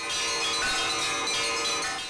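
A bell-ringer ensemble plays church-style bells at a celebration in Vinnytsia, a dense, sustained ringing wash with overlapping tones that fills the whole stretch without pause.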